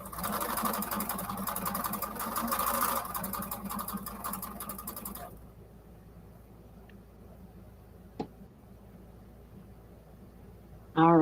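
A sewing machine stitches quilted patriotic placemats with a fast, even whirring buzz up close for about five seconds, then stops, leaving quiet handling noises and a brief clunk.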